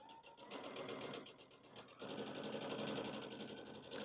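A sewing machine stitches all the way around a spooky fabric door hanger. The needle runs in a rapid, even whir with a short pause midway before it picks up again, close and clear, with no talking.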